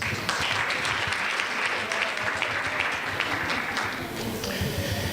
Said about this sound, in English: for every single entrepreneur who's here, I believe you deserve a big round of applause.